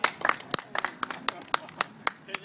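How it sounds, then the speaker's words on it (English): Scattered hand claps from a small street audience for performers in Saskatoon, sharp and separate rather than a full ovation, with talk in between. "let's give them a big round of applause"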